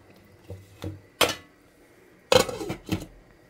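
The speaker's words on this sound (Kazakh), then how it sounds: "енді кішірек кастрюліме бір қайнағаннан кейін мына 3 грек жаңғағын салып" Three walnuts drop into a small metal cooking pot, giving hard clinks and knocks spread over a few seconds, followed by a louder double clatter near the end, close and otherwise quiet.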